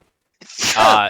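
A single sharp sneeze, a quick intake followed by an explosive burst, close and fairly loud.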